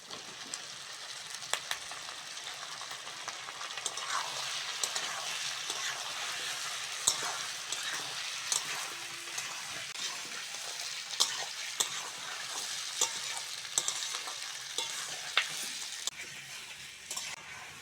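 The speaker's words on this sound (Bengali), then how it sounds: "পেঁয়াজের সঙ্গে আলুটা ভালো করে ভেজে নিয়েছি" Potatoes and onions frying together in a pan for a chicken dish, giving a faint, steady background sizzle with light intermittent clicks of stirring.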